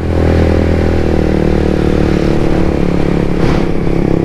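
A Suzuki GSX-R 150 motorcycle engine runs loud and steady close by, holding an even drone for the whole stretch, with a brief rise in tone partway through.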